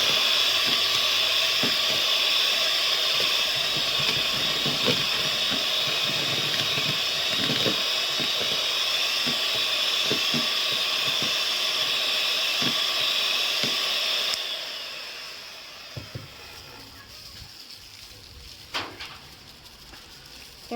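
An electric mixer beats powdered sugar into cake batter, a steady high whirring drone with faint rhythmic ticks that runs for most of the time, then cuts off to a quiet room with a few small knocks.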